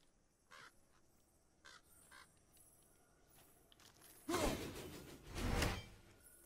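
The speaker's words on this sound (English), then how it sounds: "Pretty sure I heard a raven here." A raven in the video game God of War gives a few faint caws among quiet game ambience, followed by two louder bursts of rushing noise near the end.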